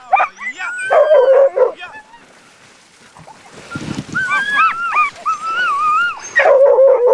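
Sled dogs on an Arctic expedition bark, yip and whimper in close bursts, with a quieter lull in the middle before the high, whining yelps return loudly, while the team is driven across a crack in the ice.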